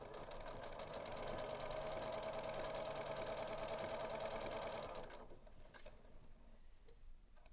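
A Janome sewing machine runs steadily, stitching dress fabric with a fast, even mechanical whir for about five seconds before stopping, leaving a quieter room with faint clicks.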